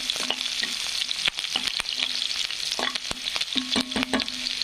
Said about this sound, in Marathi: छान असा कांदा फ्राय होऊ द्यायचा मस्तपैकी।